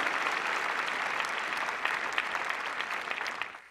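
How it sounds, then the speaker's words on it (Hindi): Steady, dense applause from an audience cheering for children at a student exam interaction, loud and continuous for several seconds before tapering off at the end, with no speech over it. "एक बार जोरदार तालियां इन बच्चों के लिए"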